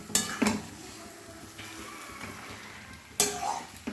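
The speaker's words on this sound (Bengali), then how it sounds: "এবার চিকেন আর আলু একসঙ্গে দিয়ে দিলাম।" Marinated chicken pieces and potatoes coated in spices drop into a hot frying pan for chicken kosha, with a couple of sharp clattering bursts and a soft sizzle in between, close and moderately loud.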